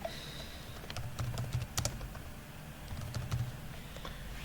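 Quick keystrokes on a computer keyboard while entering a name in an Active Directory dialog, with irregular clusters of clicks running steadily through the clip over a low background hum.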